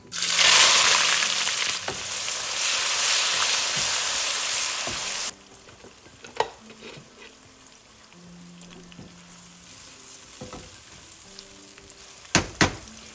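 Sliced onions hit hot oil in a pan with a loud, bright sizzle that fades after a few seconds to quieter frying crackle with occasional utensil clinks, close up for a Bengali beef tongue bhuna.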